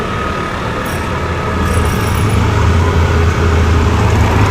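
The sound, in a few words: busy jeepney traffic on the road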